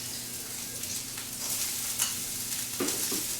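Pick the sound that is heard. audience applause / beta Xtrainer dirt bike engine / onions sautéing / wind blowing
onions sautéing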